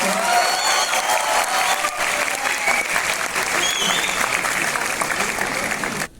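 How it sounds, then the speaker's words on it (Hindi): Audience at a film team's press event gives loud, sustained applause with some cheering, a dense continuous roar of clapping that cuts off abruptly at the end. "हम जोरदार तालियों से एक बार फिर से स्वागत करेंगे पूरी टीम का"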